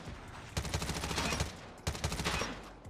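Short bursts of gunfire ring out in the mobile shooter game Call of Duty Mobile, two clusters of rapid shots fired at medium range with a brief pause between them.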